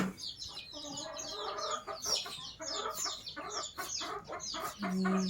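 Chickens cluck in short, overlapping calls close by in an outdoor rural setting, with a faint voice now and then.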